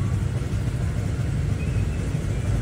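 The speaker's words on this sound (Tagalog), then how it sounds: "Start natin yung motor." A Honda Click 125 scooter engine idles too high after being started, with a steady, unbroken low rumble running throughout at close range.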